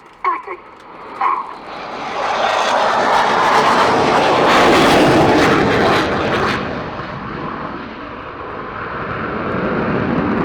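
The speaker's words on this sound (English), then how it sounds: "A single-engine aircraft, the Griffon, unlike the twin-engine" A single-engine Saab Gripen jet roars past at an air display, swelling from distance to a loud, close peak and then easing into a sustained engine rumble, with a commentator's voice faintly audible early on.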